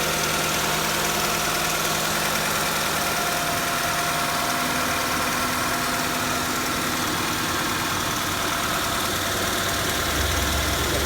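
A 1997 Honda CR-V engine idles steadily at close range, an even mechanical hum with faint knocking and vibration that runs unbroken throughout, with no talking over it.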